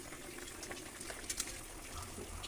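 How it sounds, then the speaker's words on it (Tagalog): A pot of saluyot with tinapa boils on the stove, giving a steady faint bubbling and simmering hiss with a couple of small pops, heard alone without talk. "Ayun, kumukulo na"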